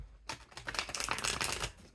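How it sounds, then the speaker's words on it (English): A deck of cards is shuffled close up, a quick burst of riffling clicks lasting under two seconds after a brief pause, with no voice over it. "I'm gonna shuffle"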